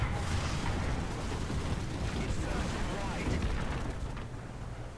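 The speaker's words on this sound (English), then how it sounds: "Let's drop some arty." An artillery barrage lands in the War Thunder tank game as dense, rolling rumbles of distant booms that blur into one continuous roar and ease off slightly near the end.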